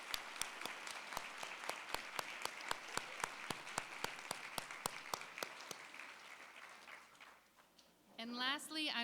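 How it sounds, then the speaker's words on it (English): Applause from an audience at an International Women's Day chamber welcome, with a few sharp, near claps standing out and the clapping tapering off before a voice begins to speak. "Let's give everyone a round of applause."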